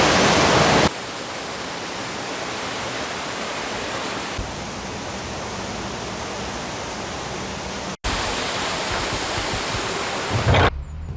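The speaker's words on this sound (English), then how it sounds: "I'm hoping there'd be enough water from this lock chamber to fill up that next lock that Mum's in now" Water rushes into a canal lock chamber as a steady, loud, broadband roar that holds without pause for over ten seconds, with abrupt level shifts and one brief cut, and no voices.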